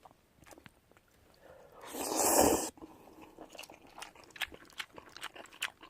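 Crunchy bites and chewing of Nongshim seaweed chojang bibim noodles, up close, with a loud burst of crunching in the middle and softer chewing clicks around it, no talk.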